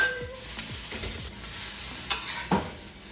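Crisp vegetables being stir-fried in a hot pan for a sizzling fish and noodle dish, with a steady sizzle, light scraping and stirring, and two sharper clatters near the end.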